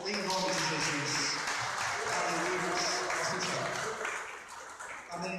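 A church congregation claps at a worship service, steady sustained applause filling the room for several seconds with music or voices underneath, tapering slightly near the end.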